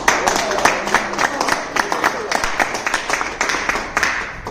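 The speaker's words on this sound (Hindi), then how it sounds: "देखिए आपकी तालियां उस तरह से नहीं आ रही, जोश होना चाहिए।" Audience applause at a kavi sammelan poetry gathering for a New Year 2026 celebration: a dense, fairly loud patter of many hands clapping, with sharp individual claps standing out and a wash of crowd noise, sustained throughout.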